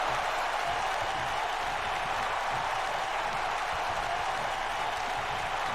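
A wrestling event crowd cheers and applauds steadily, a dense, loud wash of clapping and shouting that holds for several seconds.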